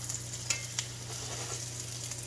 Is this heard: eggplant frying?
yes